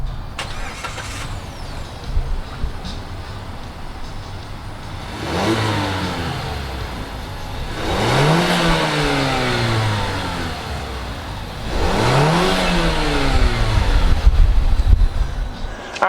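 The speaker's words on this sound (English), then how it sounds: "let's go ahead and fire up this Mazda 6." A 2019 Mazda 6 with a turbocharged inline-4 starts, settles into a steady idle, then is revved in three rising-and-falling sweeps, heard close and loud with no talking.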